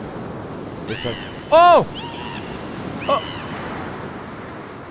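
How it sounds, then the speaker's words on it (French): Strong wind rushes steadily in the Sons of the Forest video game as a constant broad roar, with a voice speaking briefly over it. "il y a du vent de malade"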